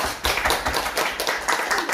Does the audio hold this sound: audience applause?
yes